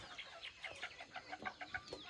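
Decoy-breeding chickens, a breeding rooster among hens, cluck in a quiet run of soft, repeated calls with no voices.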